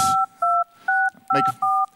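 Touch-tone dialing beeps from a Jolla phone running Sailfish OS, six clear evenly spaced tones, loud and close, with faint voices between them.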